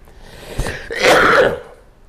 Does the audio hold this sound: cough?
yes